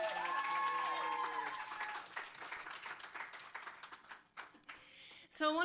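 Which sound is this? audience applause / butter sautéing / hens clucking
audience applause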